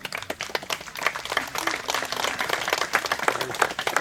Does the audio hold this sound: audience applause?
yes